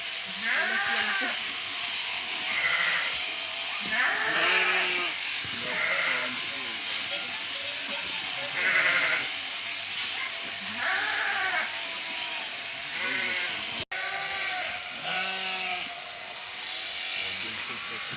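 Sheep bleat repeatedly in short, wavering calls during shearing, over a constant hiss of electric shears, while a person talks nearby.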